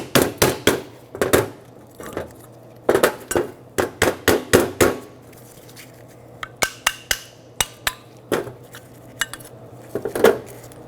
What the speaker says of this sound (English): Might need a hammer to tap them out.